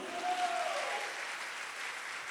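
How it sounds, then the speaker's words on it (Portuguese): A church congregation claps together in a soft, distant wash of applause that holds steady, then slowly fades. "Pode aplaudir a Jesus?"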